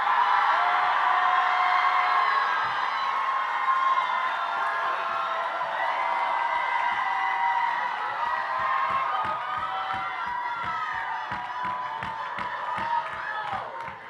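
A commencement crowd at a community college graduation cheers, whoops and claps in a loud, sustained wash of voices and applause that fills the hall, fading slightly near the end.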